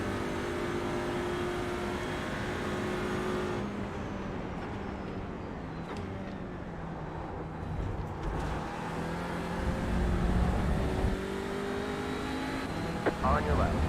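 An Audi TCR race car in a VR racing game drones with a steady engine note, then another car sweeps past close by, its engine swelling and fading over continuous track noise.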